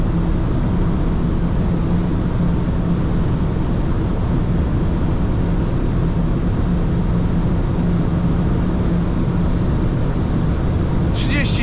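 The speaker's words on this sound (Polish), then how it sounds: "Ale ciągle przyspieszamy" A 2017 Opel Insignia 2.0 DI 4x4 with 260 hp accelerates at high speed on a highway, heard from inside as a loud, constant roar of engine, tyres and wind that barely changes throughout.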